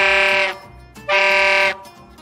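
A big toy trumpet, a baja blown for Independence Day on 14 August, gives two loud, brassy, buzzing honks of about half a second each, close by, separated by a short pause.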